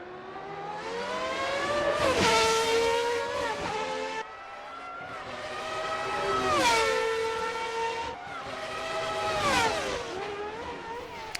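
High-pitched Formula 1 V10 engines from a 1990 Formula RSS car in Assetto Corsa scream past in three sweeping passes, rising to a shrill peak and dropping in pitch as each car goes by.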